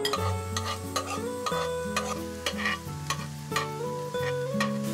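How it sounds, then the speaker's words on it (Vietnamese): Minced garlic sizzles steadily in hot oil in a pan while a utensil stirs and scrapes, with soft music playing underneath. "Dầu nóng thì mình cho tỏi băm vào phi lên."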